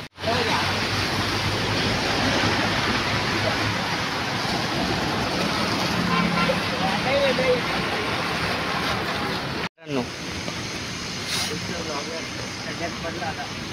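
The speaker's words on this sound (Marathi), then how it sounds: "इतका मरणाचा पाऊस चालू" A heavy downpour roars steadily and densely outdoors, close and loud, with a voice speaking over it before a brief cut.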